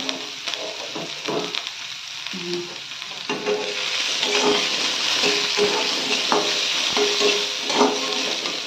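Chopped ginger and garlic fry in hot oil, a few clattering stirs at first giving way to a continuous close, hissing sizzle that swells and holds steady.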